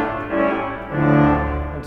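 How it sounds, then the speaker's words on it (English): A pipe organ's Tuba Major 8-foot reed stop in a large Austin organ at a Baptist church, sounding bright, brassy sustained notes that swell through two phrases with room reverberation, no voices. "There's the normal tuba major 8-foot."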